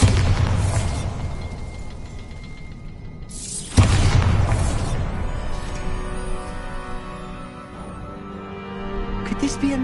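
Bombarda blast spell in Hogwarts Legacy: one loud booming explosion that crashes in mid-clip over a rumbling bed of game ambience and music, its roar slowly decaying into a long echoing tail.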